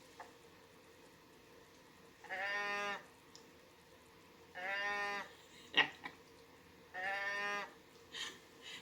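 A black mohair alpaca toy with a built-in growler, limited edition, lets out three drawn-out, cow-like lowing groans at steady intervals, close and fairly loud, with small handling clicks and thumps between them.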